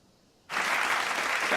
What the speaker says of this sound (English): I wonder if I can clap.